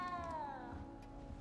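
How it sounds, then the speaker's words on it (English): A cat meows once in the video game Hogwarts Legacy, a drawn-out falling cry that sounds fairly soft against faint game ambience. "Oh, there's a cat up there."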